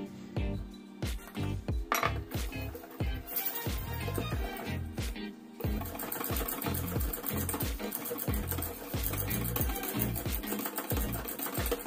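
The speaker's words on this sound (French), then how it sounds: "Je mélange entre chaque ajout." Coconut savarin batter mixed in a bowl between additions, giving a busy, rhythmic run of whirring and clinking strokes that keeps going steadily throughout.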